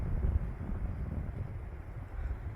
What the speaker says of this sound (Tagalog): Parang hindi siya nahahalata dyan, pero mahangin na mahangin siya.